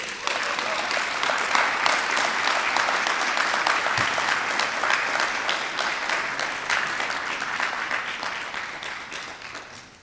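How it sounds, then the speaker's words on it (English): A crowd at a Democratic town meeting nominating caucus for mayoral candidates in Burlington gives sustained, dense applause, steady and full throughout before fading slightly at the close. "What a round of applause for our 3 amazing candidates for mayor"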